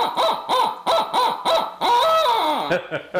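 A person imitates an owl's hooting call in a series of short, repeated hoots with a rising-falling pitch, followed by one longer, wavering call, close and loud, sounding somewhat like a car horn.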